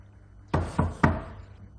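Three firm knocks on a door during a Suzhou pingtan storytelling performance, evenly spaced over about half a second, crisp and close against a quiet background.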